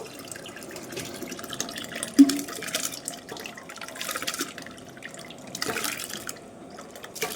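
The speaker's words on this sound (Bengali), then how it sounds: "জলটা বসিয়ে দিয়েছি জলটা ফুটে গেছে ডাল আর চালটা ধুয়ে নিয়ে এসেছি দিয়ে দেবো" Washed dal and rice for khichuri go into a pot of boiling water, giving quiet watery splashes and drips, with one sharper plop near the middle.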